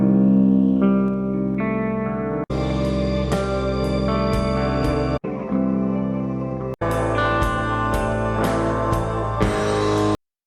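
Old Hollywood level music from the game Vampire the Masquerade Bloodlines, a loud, dense instrumental piece heavy with effects and reverb, moving through several sections with abrupt cuts and restarts.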